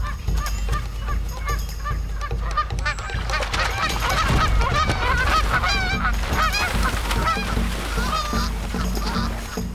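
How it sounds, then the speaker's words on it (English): Canada geese honk repeatedly in a loud, busy chorus of overlapping calls, continuous over a low rumbling background in an icy wilderness setting. "Canada geese make themselves big and threatening."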